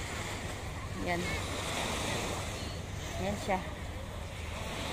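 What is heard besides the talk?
sea waves at East Coast Park, Singapore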